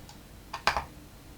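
Computer keyboard keys clatter in a short burst of a few quick clicks while playing a game, moderately close, with no voices.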